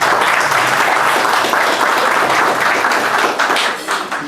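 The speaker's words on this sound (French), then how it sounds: "applaudissez un peu, s'il vous plaît." Seated conference audience in Casablanca bursts into sustained applause, a dense, loud wash of clapping that holds steady throughout and only begins to thin in the final moments.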